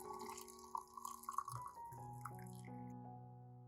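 Boiling water pours onto ginger in a container, a gurgling stream whose pitch rises steadily as the vessel fills, quiet and close.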